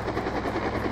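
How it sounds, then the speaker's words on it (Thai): A helicopter flies in Minecraft with an Arma 3–style roleplay mod, its rotor producing a loud, continuous pulsing drone that fills the short moment without any voices. "เสียงเฮลิคอปเตอร์ก็แบบว่าเร้าใจเลย"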